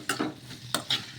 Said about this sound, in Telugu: ఉల్లిపాయల్ని ఒకసారి బాగా కలిపేసుకున్నాము